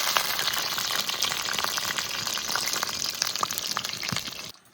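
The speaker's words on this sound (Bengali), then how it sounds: "কুমড়ো ফুলে বড়া ভাজা হয়ে গেছে, এবার তুলে নেব" Pumpkin flower fritters sizzle in hot oil, giving a steady frying hiss with scattered crackles and pops throughout before the sound cuts off at the end.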